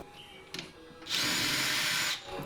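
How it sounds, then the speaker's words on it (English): Power drill boring holes through an Exomotive Exocet transmission tunnel, one loud close burst of about a second of high whirring after a couple of brief taps, then quiet. "With both of those locations marked, I drilled the holes."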